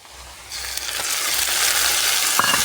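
Spice paste of ginger, green chilli, tomato and black and white mustard hitting a hot pan, a soft hiss that swells into a loud, bright, steady sizzle within the first second, with one brief knock near the end.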